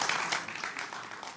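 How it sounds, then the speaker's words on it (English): A conference audience applauding after a speaker at a scientific event, a brief burst of dense clapping heard up close throughout. "So I think we can give a big applause to"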